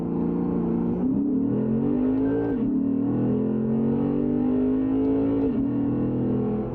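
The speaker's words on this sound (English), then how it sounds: "Let's try this again, acceleration" A Lexus RC F sports car accelerating hard, its engine note climbing steadily through the revs with brief dips at each gear change, loud and close from inside the cabin.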